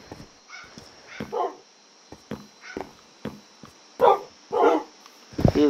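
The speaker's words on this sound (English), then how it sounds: "Why did one of my dogs just get hurt, bro?" A Minecraft dog getting hurt in the video game, a series of short yelps and whimpers spread across several seconds, moderately loud, with no one speaking over them.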